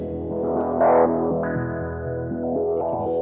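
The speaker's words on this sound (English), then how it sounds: "The LFOs can be stepped as well, they can be quantized, so you get stepped filter sounds." A buzzy, distorted synth tone shifts abruptly between filter settings in discrete steps driven by a stepped, quantized LFO, giving a dark, rhythmic stepped pattern.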